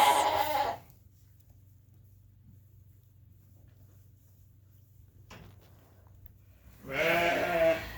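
A sheep and her newborn lamb bleat in a farm barn, with one loud bleat at the start and another at the end, separated by a long near-silent stretch over a low steady hum.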